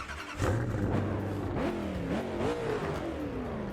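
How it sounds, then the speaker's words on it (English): A car engine starts up in the video game Test Drive Unlimited 2, cranking and catching, then revving in rising and falling sweeps before settling into a steady run, heard alone and fairly quiet. "And the startup sound is minty."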